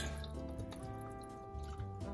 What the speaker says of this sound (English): I'm gonna pour this into this pan